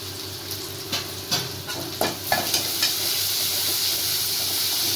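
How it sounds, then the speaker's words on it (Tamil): Onion, ginger and garlic paste sizzles loudly in a hot pan for a tomato kurma, with a steady frying hiss broken by several sharp stirring clacks and scrapes in the first half, then settling into an even, continuous sizzle. "இப்போ வெங்காயம் இஞ்சி பூண்டு எல்லாம் வதங்கி வச்சு"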